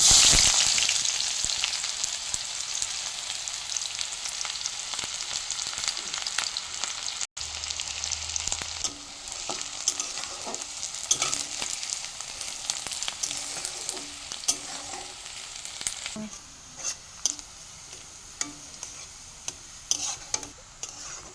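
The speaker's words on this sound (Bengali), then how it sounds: "তেলটা ভালো করে গরম হয়ে গেছে এবার পেঁয়াজ কুচি দিয়ে দেবো" Chopped onions frying in hot oil in a wok, a steady close sizzle with occasional scraping stirs and soft ticks throughout, loud at first and easing slightly, no talking.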